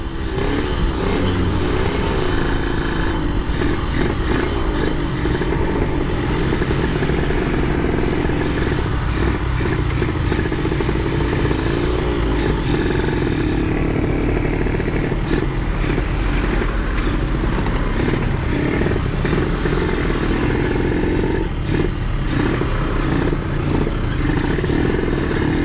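A Yamaha RX King two-stroke motorcycle on the road, its engine droning loud and close for the whole stretch as the throttle rises and falls, with traffic noise around and no talking.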